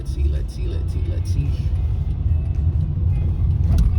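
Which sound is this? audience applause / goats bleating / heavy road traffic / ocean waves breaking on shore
heavy road traffic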